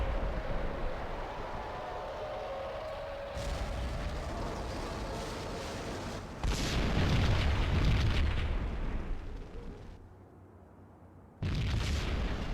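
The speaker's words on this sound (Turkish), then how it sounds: "Another bomb exploded inside the building. Çok güzel patlama efekti." A bomb going off inside a building in the video game Max Payne: a deep, sustained rumbling roar of explosion and debris that swells louder midway, drops back, then bursts up again at the end, with no voices.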